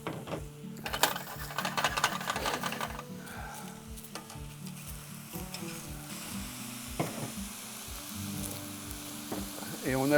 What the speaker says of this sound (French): Et on va mettre les portobello dans la poêle